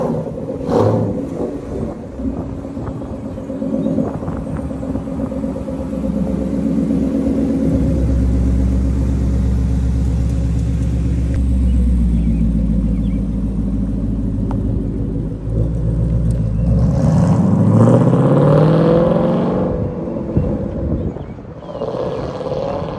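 A 2015 Ford Mustang GT with a Ford Performance sport exhaust and X-pipe rumbles loudly and steadily throughout, with deep low-end roar and a brief rise in revs toward the end.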